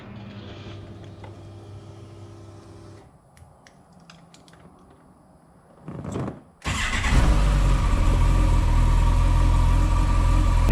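A Campagna T-Rex three-wheeler's engine cranks and catches after a quieter stretch of small clicks, then settles into a loud, steady close-up idle that fills the rest of the moment.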